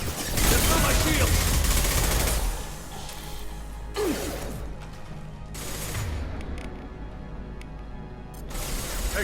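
Gunfire during Mass Effect 2 combat: loud bursts of rapid shots and crashing impacts, dense at first then in spaced volleys, with voices talking in the mix.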